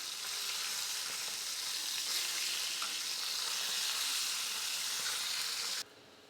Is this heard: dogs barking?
no